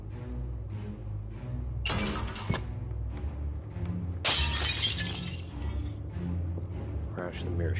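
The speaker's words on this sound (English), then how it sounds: "Crash, the mirror shatters." Mirror shattering in the video game Shadowgate, two loud bursts of breaking glass with a tinkling tail, heard under ongoing talk and background music.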